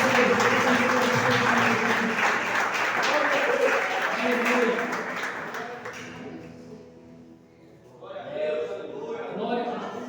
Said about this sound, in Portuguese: Você pode aplaudir Jesus mais uma vez?